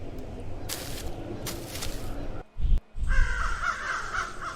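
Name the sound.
crow cawing in a video game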